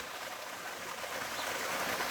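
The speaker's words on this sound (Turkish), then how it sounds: "o akan su var ya şuradaki akan böyle şırıl şırıl" A village stream flows steadily past a stone retaining wall, its water trickling in a continuous, even rush heard close with no talk over it.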